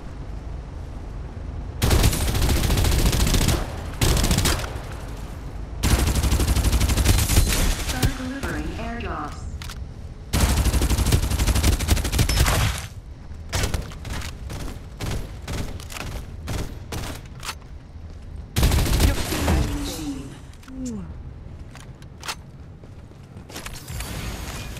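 Heavy video game gunfire in long, loud bursts of automatic fire, broken by brief pauses and mechanical clatter, with in-game voice lines heard between volleys.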